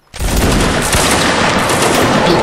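A crackling musket volley from massed line infantry in the Napoleonic Wars game, with a Gordon Highlanders regiment: a dense, loud, overlapping burst of many shots that starts abruptly and rolls on steadily for a couple of seconds.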